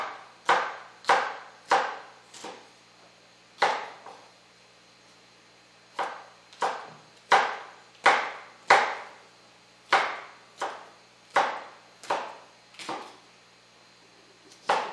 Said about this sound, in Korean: 그냥 송송송송 썰어주시면 됩니다